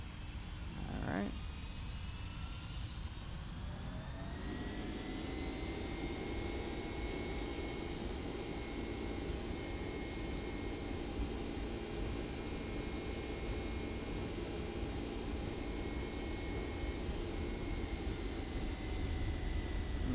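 Boeing 767 jet engines in X-Plane 11 hold a steady, broad roar under auto throttle, with a rising whine around the two-second mark that then settles into a constant drone lasting the whole stretch.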